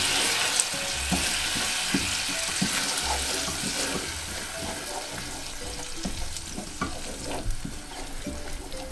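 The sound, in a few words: stirring vanilla into sesame snaps candy mixture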